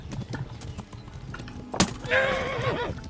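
A war horse in the video game Kingdom Come: Deliverance clip-clops along, then gives one sharp thud followed by a loud, close neigh that trails off.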